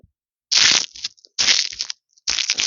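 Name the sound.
crunching plain dry cereal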